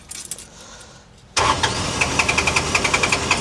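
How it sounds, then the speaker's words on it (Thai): A Komatsu PC05 mini excavator, 1.5-ton class, starts after a quiet stretch: the engine catches abruptly and settles into a loud, even, chugging idle with regular pulses, close by and without speech. "แล้วเราสตาร์ทเราก็ บิดกุญแจสตาร์ทนะครับแล้วเราก็เร่งมาที่โลนะครับ"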